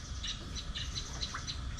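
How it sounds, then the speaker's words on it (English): Birds call on a Thai farm, a repeated bright squawking note sounding several times in a quick, regular series over a low outdoor background hum. "You got birds."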